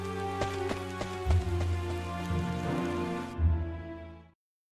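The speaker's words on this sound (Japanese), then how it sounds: "雨が強すぎて何も見えない。" Heavy rain in the video game Sword Art Online Alicization Lycoris pours as a dense, steady hiss over a sustained tonal musical bed, then both fade out abruptly near the end.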